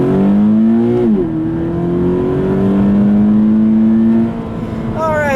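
2017 Subaru BRZ Limited automatic with revised intake, engine droning loudly from inside the cabin while driving, pitch climbing through gears with shifts and a steady cruising hum.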